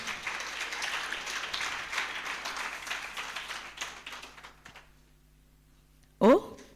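Congregation at a family blessings church service applauding and cheering, a broad wash of crowd noise that fades out, then a short loud burst near the end.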